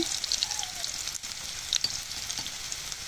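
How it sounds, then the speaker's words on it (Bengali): Two cut potatoes frying in hot oil on medium heat give a steady, close sizzle with a dense, crackling hiss throughout and no talking. "তেলটা গরম হয়ে গেছে, এখন এখানে আমি 2টা আলু এভাবে কেটে নিয়েছি। এখন আলুগুলো তেলে দিয়ে দিব।"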